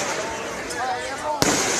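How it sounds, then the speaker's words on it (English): Fireworks and firecrackers go off outdoors during a July 3rd celebration, with a background of crackle and one sharp, loud bang near the end; faint voices are also present. "Big roll of firecrackers."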